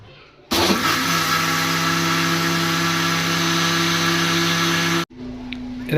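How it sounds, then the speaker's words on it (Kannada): An electric mixer grinder (mixie) runs loudly and steadily at a constant high whine for about four and a half seconds, then shuts off abruptly, leaving a quieter hum; no speech. "ಮಿಕ್ಸಿ ಹಾಕೋದು ಕಂಪ್ಲೀಟ್ ಆದ ಬಟನ್ ಬಂದ್ ಮಾಡಿ ಮಿಕ್ಸಿ ತೆಗಿಬೇಕಲ್ಲ"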